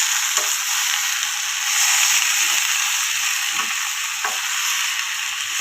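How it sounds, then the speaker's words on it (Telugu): Ridge gourd pieces fry in oil with a dense, loud, continuous sizzle, while a few soft clicks and scrapes come from stirring. "కలుపుకోవాలి ఆయిల్ అంతా పట్టేలాగా"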